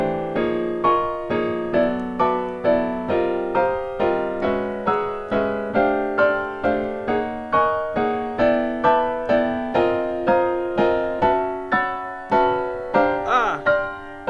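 A sustained run of chords voiced in stacked fourths with an octave added, moving in steady half-step shifts, after the soundtrack of Spirited Away; played close and alone, the rhythm even, with a brief stray sound near the end.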